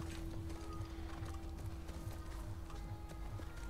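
Horse hooves clip-clop at a steady, even trot in The Last of Us Part 1, close and continuous over a low, constant hum, with no voices.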